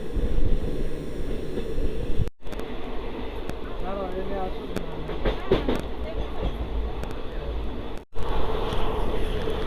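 A moving passenger train on a journey toward Banaras gives a loud, continuous rumbling roar with rattling and rhythmic clatter, heard from on board, with two brief dropouts and people talking over it.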